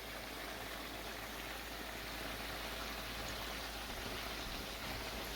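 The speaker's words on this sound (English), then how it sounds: "That's what your frying pan should look like, or your pot, bubbling up just like that." A pot of Jamaican-style oxtail bubbling steadily on the stove, a dense, even simmering hiss with no talk, holding constant for several seconds.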